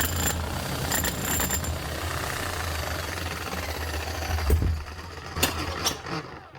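A Bosch rotary hammer with worn gears runs continuously with a rough, rattling mechanical hammering and a low drone, then cuts off near the end, leaving a few brief knocks.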